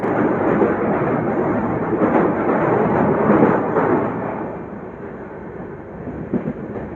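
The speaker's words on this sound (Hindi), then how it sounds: "मारवाड़ जंक्शन पे अपनी ट्रेन पहुंच चुकी है" Bhagat Ki Kothi–Kacheguda Express at Marwar Junction, a loud, continuous rumble of rolling rail cars and broadband rushing noise that eases slightly toward the end with a few faint clanks.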